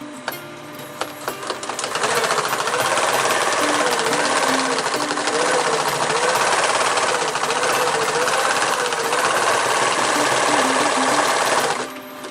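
Sewing machine stitching a zigzag bar tack on a rollup backpack, a rapid mechanical chatter that starts after a few quiet clicks, runs loud and steady for about ten seconds, then stops abruptly.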